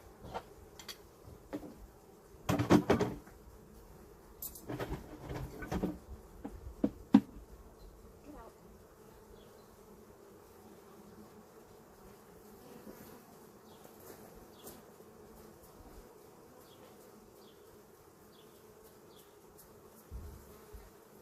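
Honey bees buzz around an open hive during a honey harvest. A steady close hum continues for the whole stretch, with knocks and handling clatter in the first few seconds and no talking.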